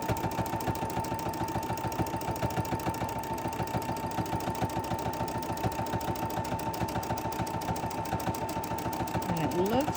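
A sewing machine quilting a practice block runs continuously with a fast, even mechanical stitching rhythm, close and steady throughout.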